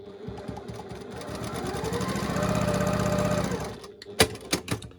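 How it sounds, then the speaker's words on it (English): A sewing machine stitches quilt fabric for a quilt block, a fast mechanical whir that builds and holds for a few seconds, then stops, followed by a few sharp handling clicks. "So I've sewn that line along here"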